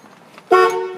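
A single short horn honk from a 1969 Chevrolet Chevelle SS 396 sounds sharply after a moment of quiet wind noise, then lingers briefly.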